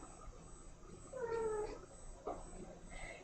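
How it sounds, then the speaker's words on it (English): A cat meows faintly in a quiet indoor room, giving one drawn-out meow and then a shorter, softer call. "If you can hear him meowing,"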